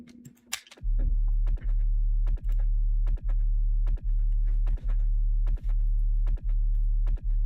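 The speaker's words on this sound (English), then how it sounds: "We got the 808 or the sub in quotations." An 808 sub bass in FL Studio plays as a loud, sustained deep tone, pulsing in a regular repeating pattern of about nine notes, with faint clicks and short drum hits on top and no talking.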